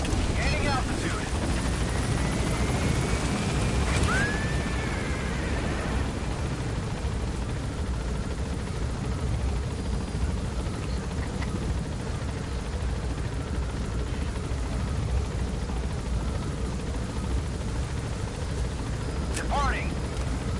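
Helicopter gaining altitude in the video game Metal Gear Solid V, a continuous whirring rotor drone mixed with wind-like rush, steady and fairly loud throughout, with faint radio-style chirps.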